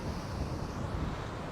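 Strong wind buffets the microphone on an East Coast sea shore during fishing, a steady, loud broadband roar blended with surf, continuous throughout with no talking.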